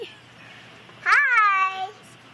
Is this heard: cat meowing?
yes